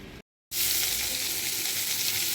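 Pointed gourd fries in a pan with a dense, steady sizzle that cuts out briefly and then returns loud and even, close by, with no speech.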